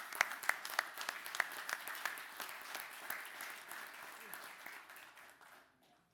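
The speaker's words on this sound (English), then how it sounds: "So let's give them a round of applause." Applause at a city council meeting, a scattered round of clapping from the room that starts crisp and gradually thins out and fades to quiet.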